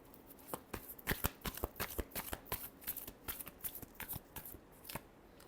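Tarot cards being shuffled by hand, a rapid series of crisp riffling flicks and slaps, close but quiet.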